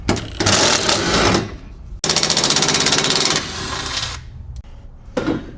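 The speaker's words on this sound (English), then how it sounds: "That's what you're going to use your 13 socket for." A 13 mm socket wrench removing bed support bolts on a 2025+ Polaris Ranger 1000, heard as fast ratcheting clicks in two sustained runs with a brief gap between, then a short final burst, close and loud.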